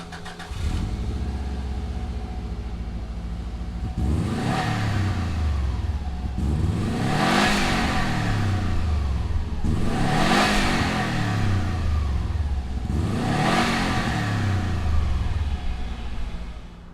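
A 1994 Subaru WRX STI rally car engine starts and idles, then revs hard in four rising-and-falling bursts, loud and close with no talking.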